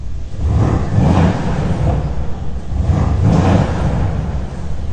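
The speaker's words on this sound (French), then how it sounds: "la voiture est allumée et l'échappement sport est activé. Donc, au niveau du bruit, ça donne ça." A 2019 Mercedes S63 AMG coupé with its sport exhaust switched on revs while stationary, two loud, deep surges of engine roar rising over a rumbling idle.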